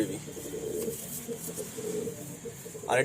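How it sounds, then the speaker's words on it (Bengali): Soft, low cooing from a baby pigeon of an Ablak loft breed, repeated close murmurs with a brief higher chirp at the end. "এটা আবলুক ঘরের পায়রা, ওই যে আবলুক যেটা আমার বাড়ির লফটে আছে ওরই এটা বেবি"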